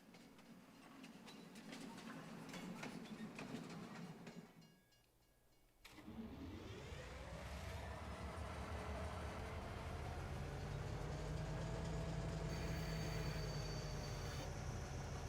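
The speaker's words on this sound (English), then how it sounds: "A train's showing up right on time, actually." A train arrives in Farming Simulator 22 on the Elmcreek map, a loud rolling rumble that briefly drops away, then returns as a steady, building engine drone with a long rising tone, close and alone without talk.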